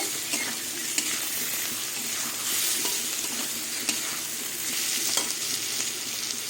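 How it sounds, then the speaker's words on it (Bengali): Turmeric and spices stir-fried for an okra curry, a steady close sizzle with scraping stirs and small clicks of a spatula against the pan, no talk. "এবার হলুদ দিয়ে দেবো এবার সব কিছু দিয়ে ভালো করে কষিয়ে নেব"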